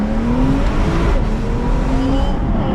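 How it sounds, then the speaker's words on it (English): A Porsche with an M-Engineering stage 2 tune accelerates from the cabin, its engine a steady loud roar with a rising whine that suggests turbo spool, continuous for a few seconds without talk. "And you hear the turbo spooling"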